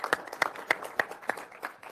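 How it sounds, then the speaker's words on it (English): Scattered clapping from a small group of attendees at an executive committee meeting, a few individual claps standing out over roughly two seconds, fairly faint and with no talk over it. "how about a big round of applause for our heart team"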